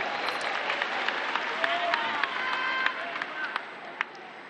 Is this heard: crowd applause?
yes